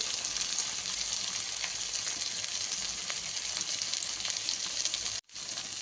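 Mustard paste, ground with a green chilli, hits a hot frying pan and sizzles in a steady, close, hissing crackle for several seconds, broken by a very short drop near the end.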